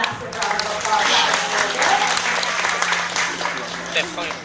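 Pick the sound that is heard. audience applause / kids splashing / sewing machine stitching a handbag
audience applause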